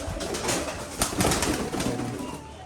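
A pigeon coos close by on a rainy day among kept birds, soft and throaty, with rustling and a brief wing flap or handling noise over steady background hiss.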